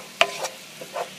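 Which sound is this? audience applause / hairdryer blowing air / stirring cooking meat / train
stirring cooking meat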